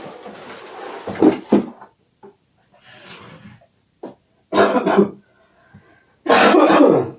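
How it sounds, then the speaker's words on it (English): Several rough coughs and throat-clearing bursts come in clusters with brief pauses between them, close up, with faint clatter in between. "this silly cough I cannot get rid of."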